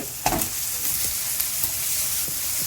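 Ground meat for kadınbudu köfte is stirred and sautéed in a pan, giving a steady close sizzle with occasional scraping stirs and no talk.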